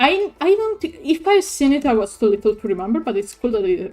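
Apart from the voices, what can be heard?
No distinct noise like a dog, phone or traffic.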